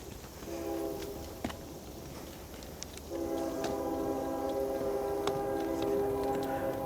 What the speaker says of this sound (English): The train kept rolling all night long.